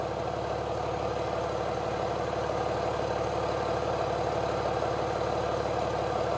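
A BMW idling with its exhaust valve closed, a steady low engine rumble that stays even and continuous with no revving.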